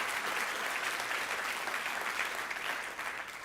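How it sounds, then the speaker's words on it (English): Audience applause filling the room, a dense, steady clapping from a crowd that holds throughout and eases slightly at the very end. "Nice round of applause for all of them."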